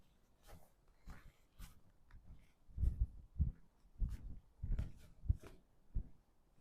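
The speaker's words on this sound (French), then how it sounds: "Le chien." A dog at an abandoned urban site making a series of soft, close snuffs and huffing breaths in short irregular bursts against a quiet background.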